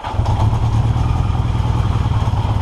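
A 1982 Yamaha XJ650 motorcycle engine idles steadily up close, a loud, even, throbbing rumble with light mechanical clatter and no pause.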